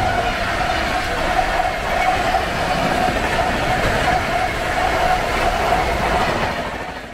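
The Kalka Mail, running with all ICF coaches, makes a steady, loud rolling rumble with a faint wheel whine that continues evenly throughout.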